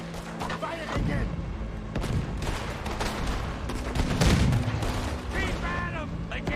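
Gunfire from the Western video game Red Dead Redemption 2: a run of sharp shots and booming reports mixed with game sounds, with a voice talking over parts of it.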